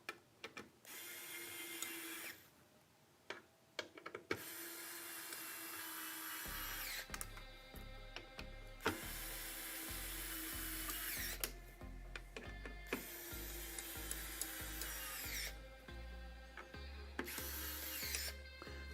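A power tool tightens screws while building a Lian Li O11 Dynamic EVO PC, a close whirring buzz in bursts with a low pulsing rhythm and brief clicks between runs, heard alone without talking.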